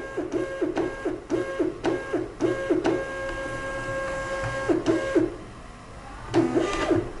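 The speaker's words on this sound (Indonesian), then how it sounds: "di sini printer sudah terkalibrasi ya, label keluar satu persatu" A Kassen DT-643 label printer calibrates, whirring and clicking in a quick regular rhythm as it feeds labels out one after another, with a short pause midway before a final burst of feeding.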